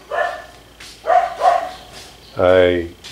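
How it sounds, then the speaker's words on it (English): Several loud, close dog barks in separate bursts, three short yelps followed by a longer, fuller bark, heard in a home setting. "go out there and make that dog be quiet"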